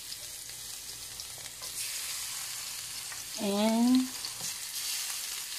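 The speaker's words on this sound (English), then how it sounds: "Saute garlic, minced garlic," Minced garlic sautéing in a pan that has just been used for frying eggplant, giving a steady, soft sizzle with a brief tonal squeak partway through and a voice speaking faintly over it.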